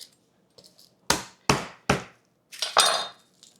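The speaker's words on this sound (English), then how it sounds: "By smashing them, they'll just come out from the skin super easily." Fresh garden garlic cloves are smashed on a cutting board: three loud, sharp thwacks in quick succession, then a pair of heavier crunching blows, with quieter taps and handling sounds between them.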